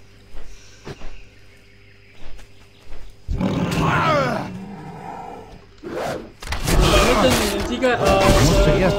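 A tiger in the video game World of Warcraft roars in loud growling bursts, with gameplay sound effects and some voice activity around it.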